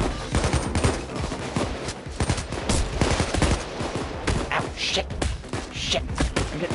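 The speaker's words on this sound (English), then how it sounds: "I'm getting shot." Machine-gun fire crackles in the heist shooter Payday 2, rapid bursts and thuds layered thickly with players talking over the din.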